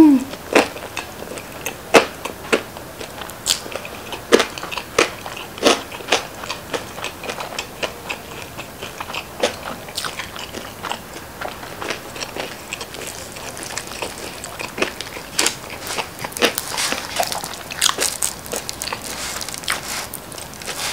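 Crispy-crust Chicago pizza being bitten and chewed up close, with sharp crunchy clicks repeating irregularly throughout and no talking.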